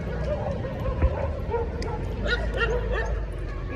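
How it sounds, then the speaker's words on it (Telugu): Several dogs in a gated residential community bark and yip in short bursts with a few whimpers, some close and some farther off, while people talk over them. "మళ్ళీ డాగ్స్ మాత్రం ఉన్నాయి ఫుల్"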